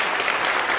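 Steady audience applause for a church hymn team, dense and continuous clapping from a crowd with no talk, in a short burst.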